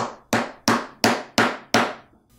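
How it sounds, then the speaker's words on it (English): A hammer taps down a metal ferrule on a shop-made screwdriver: six sharp, evenly spaced strikes, each ringing briefly before fading, close and loud, with no talking. "So I'm hammering down the furl."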